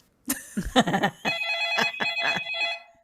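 A telephone rings in a comedy dating sketch, opening with a few choppy electronic bursts before settling into a steady, bright, close-up trill for about two seconds.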